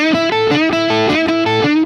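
A distorted electric guitar plays a quick, bright lick that repeats several times in a steady looping rhythm, loud and close.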